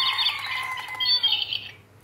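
Battery-powered toy bird in a cage gives a loud, close run of shrill electronic chirps and squawks that fades out near the end, with no talk.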